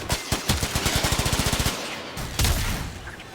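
Rapid automatic gunfire in the video game Warframe, a fast, evenly spaced stream of shots lasting under two seconds, then a gap and a louder burst of game effects.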